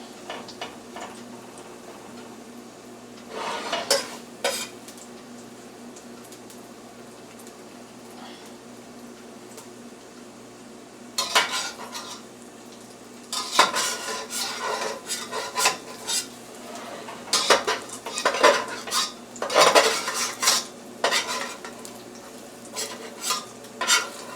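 Spatula scraping under egg, bacon and cheese stuck to a frying pan, bursts of metallic scrapes and clatter over a faint sizzle, close, separated by quieter stretches with no talking.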